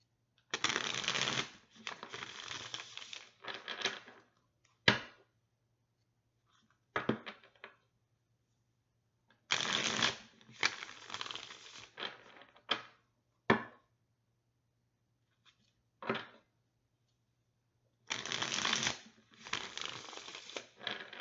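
Cards shuffled in several separate bursts of riffling and flicking, close and crisp, with short silent pauses between them and no talking.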